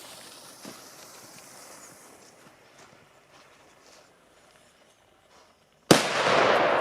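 A single sharp firecracker blast, one of a set of current firecrackers ranging from 0.2 to 1.8 grams, cracks loudly near the end after a long stretch of quiet outdoor background.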